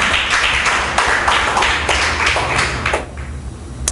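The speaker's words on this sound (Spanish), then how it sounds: "Denle un aplauso al Señor" A church congregation applauds during a worship service, producing a dense, continuous wash of clapping from many hands at close range with a few sharper accents, sustained throughout.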